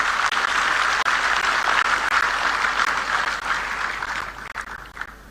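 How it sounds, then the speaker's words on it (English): Loud, sustained applause from an audience for the SRM team, a thick roar of clapping that holds steady and then thins slightly toward the end, with no talking over it. "Give a big applause for our SRM team."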